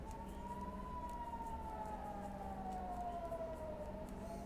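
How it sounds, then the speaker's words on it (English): Air raid sirens warning of incoming missiles in Israel, a single distant wailing tone that rises and then slowly falls, faint over a steady low background rumble with no voices. "That's the sound of the sirens going off."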